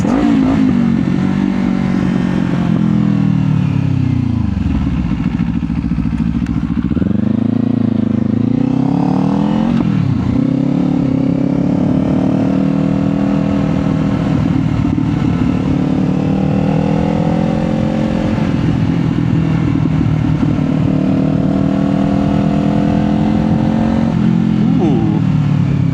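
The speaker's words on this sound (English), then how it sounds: "That downshift sounds nice with the exhaust." A Kawasaki Z500 motorcycle engine and exhaust rev and fall through repeated downshifts, pitch sweeping up and down over steady wind rush, with a rider talking intermittently over it.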